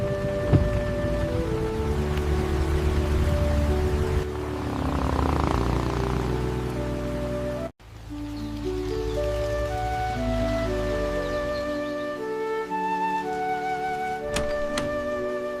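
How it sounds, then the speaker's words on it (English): Rain falls steadily at a mobile home campsite, a continuous soft hiss that sits beneath prominent gentle music throughout. "What a beautiful rainy day."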